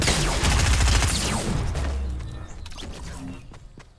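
A burst of rapid Fortnite Battle Royale gunfire, loud and dense at first, then thinning into scattered, fading shots over a few seconds, with no voices.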